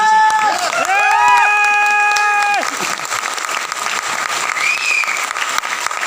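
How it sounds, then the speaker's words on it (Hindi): Loud audience applause from a crowd fills the first couple of seconds, then continues as steadier clapping under a bustling hall, with whistle-like tones early on. "तो मैं एक बार चाहूंगा जोरदार तालियां होनी चाहिए"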